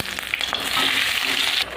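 Gram-flour-battered chilli chops crackle and hiss in hot frying oil, a brief, close, continuous sizzle that drops off abruptly at the end.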